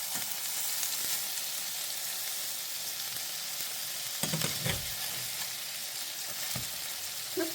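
Food sizzles steadily in a pan at close range with a constant bright hiss, and a few clunks and scrapes come through as pieces are turned.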